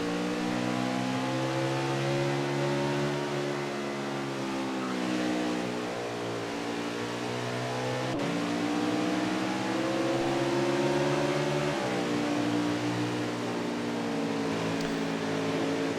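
A Winston Cup race car pulls off pit lane onto the track at Canadian Tire, its engine droning and rising in pitch through the gears at a steady, moderately distant level with no talk.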